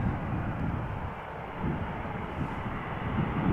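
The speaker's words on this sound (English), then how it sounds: "7878 Dreamliner landing after 5 hours and 44 minutes of flight" An Air Canada Boeing 787-8 Dreamliner landing at Amsterdam Schiphol Airport in gusty crosswinds, a steady, loud, broad engine roar mixed with wind rumble on the microphone, no talking.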